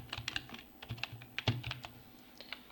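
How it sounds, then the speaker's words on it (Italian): Someone types on a computer keyboard, entering a short text prompt into an image generator. The keystrokes come in quick, irregular clicking bursts with brief pauses, close and soft, with no talking. "Provo a scrivere vaso bianco."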